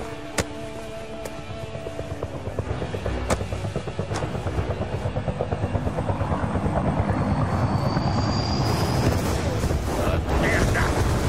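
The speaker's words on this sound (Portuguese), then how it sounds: "Tem um helicóptero!" Helicopter in the video game Call of Duty Black Ops II, its rotor chop building into a steady loud throb over explosions and gunfire, with a rising whine near the end.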